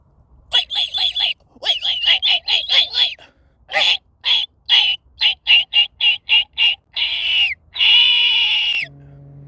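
A person imitates a red-shouldered hawk call with a voice, giving a rapid series of loud, piercing, repeated screaming notes in quick bursts, ending with a longer drawn-out cry.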